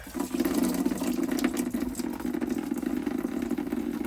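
Water pours steadily into a bucket as it drains from a Vitapur UV lamp housing during a lamp and quartz sleeve change, a continuous close rushing splash with small clinks over it.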